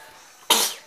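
A single sharp sneeze bursts out close and loud after a stretch of quiet room tone, then fades quickly.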